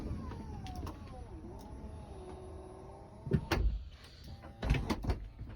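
A BraunAbility power sliding door on a 2014 Toyota Sienna closes: a whining electric motor hum glides along for a few seconds, then ends in a couple of solid latching thuds and clunks, fairly close.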